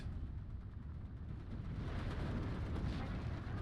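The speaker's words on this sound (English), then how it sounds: "It's a good airstrike." Airstrike explosions in Steel Division 2, a dense rumbling barrage of blasts rolling continuously at moderate distance, with no speech.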